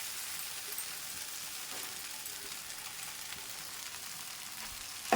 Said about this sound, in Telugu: మనం ఇలా ఫ్రై చేసేస్తామండి